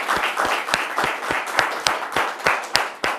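A studio audience on a television set claps for itself in a steady, rhythmic beat, roughly ten firm claps over about three seconds, loud and close with no talk over it.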